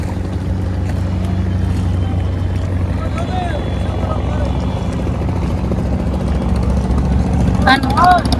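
A river ferry boat's engine drones steadily on a crossing, a constant loud low hum with voices in the background.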